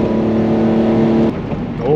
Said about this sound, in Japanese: それではブレーキがどんぐらい効くようになったか試してます